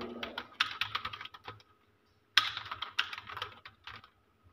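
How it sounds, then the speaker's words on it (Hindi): An address is typed on a computer keyboard, with close, brisk bursts of clicking keys in two runs separated by a short pause, with no speech. "तो हम एड्रेस यहाँ पर टाइप कर लेते हैं।"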